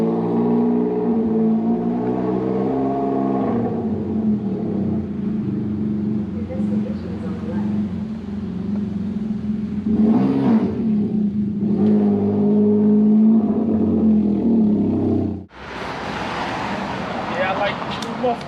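A Can-Am Ryker fitted with a Twin Kaos RLS exhaust idles with a loud, deep burbling drone that rises and falls through several revs, then cuts off sharply before a burst of wind or rushing noise.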